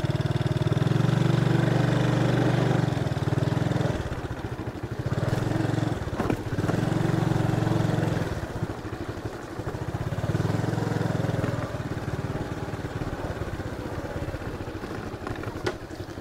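A motorbike engine hums steadily at close range on a slippery, muddy road, swelling and dipping in loudness as the throttle changes.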